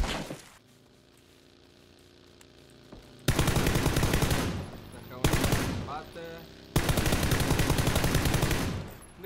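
Gunfire in the video game PUBG, heard as long, loud sustained bursts of automatic fire that come in three separate stretches after a quieter opening.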